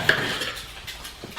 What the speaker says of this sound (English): I'm going to cut all my oranges in half,